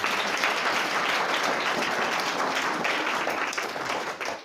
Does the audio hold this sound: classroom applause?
yes